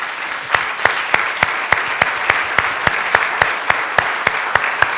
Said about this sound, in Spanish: yo entiendo a los hermanos que aplauden